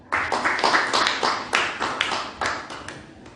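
A congregation at a church gathering claps hands together in several bursts of loud applause, with uneven rhythmic surges of clapping filling the room and no voices over it.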